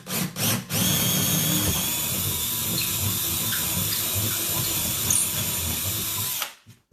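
A power drill bores a hole into a wood moulding in one continuous whining burst lasting several seconds, close and loud, preceded by two short trigger blips and ending abruptly.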